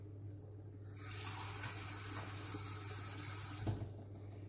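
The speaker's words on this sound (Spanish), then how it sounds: "le vamos a echar el agüita" Water poured from a tap into a cooking pot with rice for a vegetable and cod rice dish, a steady close rushing flow lasting several seconds over faint background hum, with no talking.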